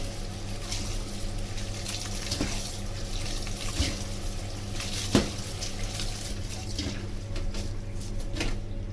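Cooked spaghetti being rinsed under running cold tap water in a kitchen, a steady, continuous hiss and splash of flowing water with a few faint clinks, no voices.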